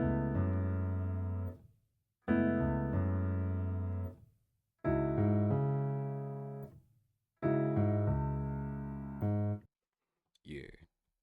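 Piano chords in a remix climb stepwise in four sustained, evenly spaced blocks, each ringing out and decaying before the next, followed by a brief faint sound near the end.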